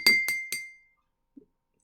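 Three bright clinks ring out as an empty drinking glass is tapped in quick succession, close and clear with a short ringing tail, followed by a faint soft knock.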